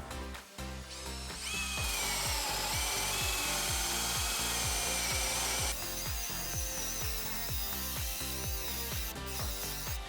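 A Hikoki DV 18DBFL2 cordless combi drill drives a large bit into wood. The motor whirs close up while the bit grinds and chatters through the timber in a fast, regular rhythm, with no talking.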